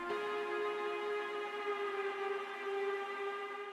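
A sustained, buzzy synth lead holds steady for a few seconds, loud and bright with rich harmonics, its pitch bending slightly through automation as it plays alone.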